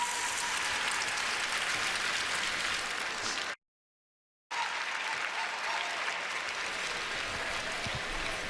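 An arena crowd at the 2016 World Figure Skating Championships in Boston applauds a Canadian pairs team after their short program, dense sustained clapping that cuts out abruptly for about a second, then resumes.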